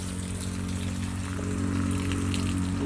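Food being rinsed in water during village cooking, with a steady rushing, pouring wash of water and a low constant hum underneath, close and unbroken for the whole stretch.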